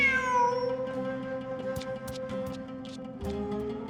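A cat meows in the Genshin Impact video game, with several clear, drawn-out, close meows that rise and fall in pitch and sound alone, without talk.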